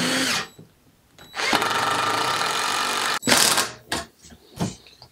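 A power drill driving screws into wooden steps for a chicken coop exit ramp: several loud bursts of whirring motor, one long run of about two seconds and shorter ones, separated by pauses, close by.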